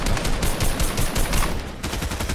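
Gunfire in a Fortnite match, a dense, rapid burst of close, loud shots running continuously with no pauses.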